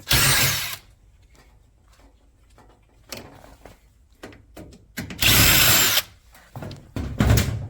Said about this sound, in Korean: 이 나사 두 개를 풀고요